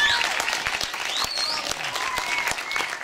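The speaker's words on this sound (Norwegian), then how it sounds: "så jeg synes vi skulle gi henne en særdeles fin applaus." An audience at the UKM Sørreisa 2012 youth event gives the host a warm round of applause, steady clapping with scattered whoops and cheers mixed in.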